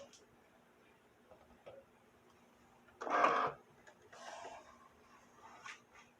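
A Cricut cutting machine whirs briefly as it unloads a cut stencil mat, a loud mechanical burst about midway, followed by faint rustling and handling of the mat.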